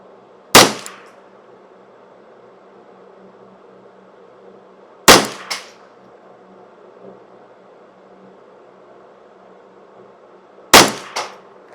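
A Custom Shop Ruger 10/22 rifle fires Eley flat nose .22 rounds: three sharp, loud cracks about five seconds apart, each with a quick second report or echo, against quiet outdoor background and no talking.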